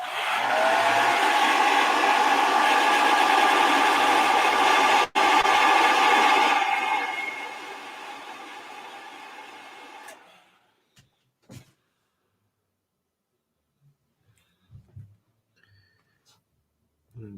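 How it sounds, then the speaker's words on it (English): A hairdryer blows loudly and close for about ten seconds, a steady rushing whoosh that briefly cuts out mid-way and then winds down, followed by a few faint handling knocks in quiet. "let's give this a blast with a hairdryer before we get started."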